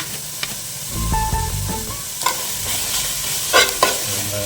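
Sliced onions fry in a pan for a chicken curry, a steady close sizzle broken by scraping, clattering strokes of a spoon stirring them.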